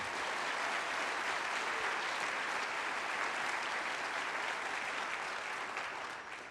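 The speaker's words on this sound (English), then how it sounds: "We can clap for that." Audience applause at a NASA news conference on the OSIRIS-REx asteroid sample reveal, a dense even round of clapping from a room of people, steady throughout and fading slightly at the end.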